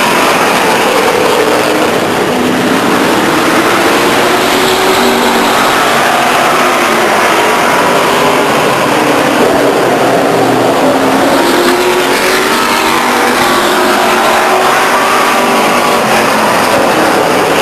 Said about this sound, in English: Good race with the 11 car and the 15 car off turn 4.